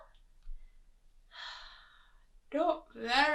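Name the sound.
storyteller imitating a bear's yawn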